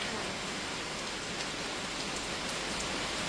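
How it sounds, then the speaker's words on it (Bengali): Steady rain falls on a forest around a homestay balcony in Jhargram, a soft continuous wash of patter heard close and fairly faint, with no voices. "আর দেখতে পাচ্ছ বৃষ্টি পড়ছে"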